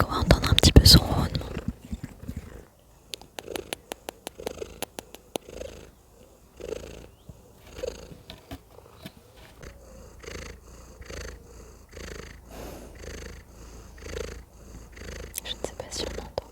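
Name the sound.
cat purring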